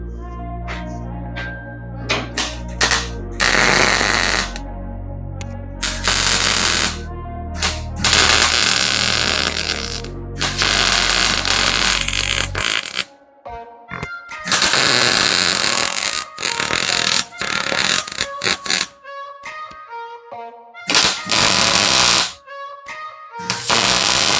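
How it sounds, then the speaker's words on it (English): Bursts of welding on quarter-inch round bar being joined to a 1959 GMC pickup fender, with loud crackling runs separated by short silences in an irregular on-off pattern. "I'm going to get this thing welded up"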